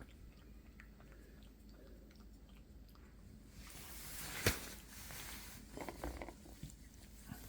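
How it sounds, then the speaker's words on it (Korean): A dog chews eggplant up close, with wet smacking and crunching bites that grow louder in the second half over a quiet room background. "짝짝 소리가 나네 음, 맛있게 먹어 아주"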